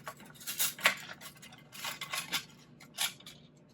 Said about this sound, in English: I'm going to cut another little triangle